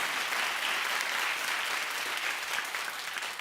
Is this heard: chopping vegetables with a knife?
no